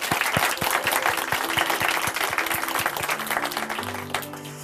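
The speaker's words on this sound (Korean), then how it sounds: "주님께 감사의 박수 다시 한번 올려드리겠습니다." Congregation at a church service applauding in thanks, a dense sustained wash of many hands clapping close by, with a low sustained tone rising beneath it toward the end as the clapping thins.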